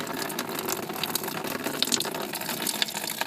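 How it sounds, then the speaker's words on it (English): Coolant draining from a Toyota Highlander radiator during a flush, a steady close splashing gush of liquid with small drips and trickles, continuous and alone. "So again, this is draining the radiator."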